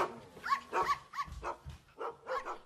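Dogs bark in a short irregular series of yaps and woofs, moderately close but fairly quiet, with brief gaps between the calls and no talking over them.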